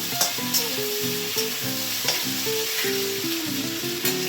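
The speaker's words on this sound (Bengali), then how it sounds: "আমি এটা নাড়িয়ে নিই, দাঁড়াও এখানে।" Prawns fry in a pan while being stirred, giving a steady loud sizzle with light, regular scrapes and taps of the utensil throughout.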